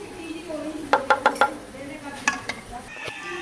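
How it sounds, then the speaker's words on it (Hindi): Kheer being served from a pot into a dinner-set bowl, with a quick run of four clinks and scrapes of a spoon on dishware, then a few softer knocks, over faint room noise. "तो अब हम इसे डिश आउट करते हैं"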